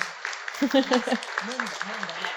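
An audience at a hemophilia panel event gives the doctor a round of applause, a dense patter of clapping running under a voice speaking over it.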